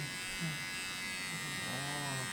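Electric clippers trim the paw fur of a golden retriever, giving a steady close buzz throughout with a soft voice faintly underneath.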